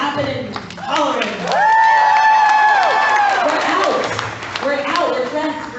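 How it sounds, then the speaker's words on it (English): An audience at a business achievement awards ceremony claps and hollers, swelling into loud cheering with a whistle in the middle. Voices talk over the noise at the start and the end. "Y'all, I need more clapping and hollering."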